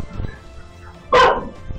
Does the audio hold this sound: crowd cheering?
no